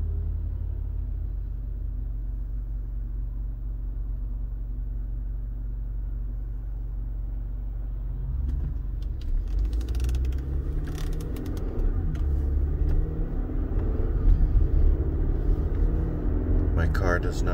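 Steady low rumble inside a moving car on a short trip, a continuous road and engine drone that grows slightly louder and rougher partway through, with faint rattles and clicks over it.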